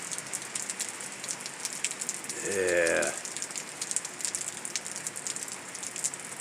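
Steady rain falls during an afternoon thunderstorm, a continuous close hiss of drops throughout, with a voice speaking briefly partway through.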